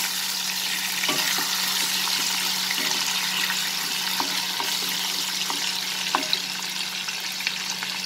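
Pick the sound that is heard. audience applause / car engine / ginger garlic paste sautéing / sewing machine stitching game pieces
ginger garlic paste sautéing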